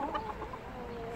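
Backyard hens in a chicken area give a brief burst of soft, low clucks at close range, short and quiet over steady outdoor background noise.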